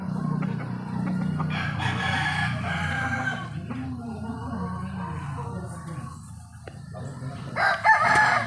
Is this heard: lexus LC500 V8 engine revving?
no